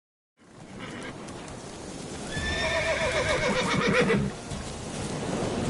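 Geralt's horse Roach in The Witcher 3 gives a loud, close whinny that rises in the middle, over steady hoof clops and a rain-like outdoor wash, with no talking.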